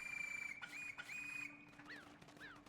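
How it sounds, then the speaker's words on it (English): Oatchi, the dog companion in the video game Pikmin 4, gives a few short, bright whistle-like tones over a steady game music bed, with sliding chirps toward the end. "Wait, Oatchi can whistle?"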